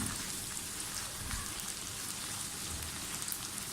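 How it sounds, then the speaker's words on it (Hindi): Okra frying in hot oil for masala bhindi, a steady dense crackling sizzle that stays even and fairly close throughout with no voices. "भिंडियाँ हमारी फ्राई हो रही हैं।"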